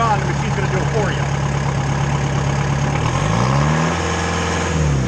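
Engine of a Mayco LS-40 concrete pump running flat out, a loud, steady mechanical drone with a rising and falling whine partway through, close by.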